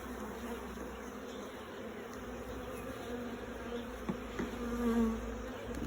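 Honeybees buzz around a hive with a laying worker in a steady, soft drone, with a few individual bees passing closer and louder near the end.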